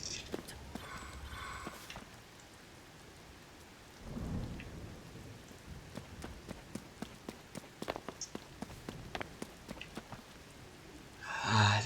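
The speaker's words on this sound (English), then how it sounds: "I literally have to wait here until it's done raining" Rain falls steadily in Zelda: Tears of the Kingdom on the Switch, a soft wash broken by many sharp clicking footstep-like ticks, a low rumble of thunder midway and a louder burst at the end.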